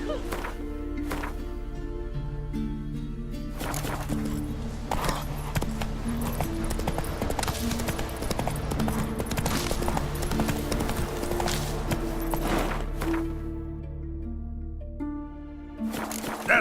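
Roach, the horse in The Witcher 3, galloping with a steady, rhythmic clip-clop of hooves close up, running throughout under a layer of tonal game music.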